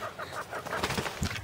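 A backyard chicken flock clucks and murmurs close by, with overlapping low calls rising into a busier burst of clucks near the end, over faint background noise.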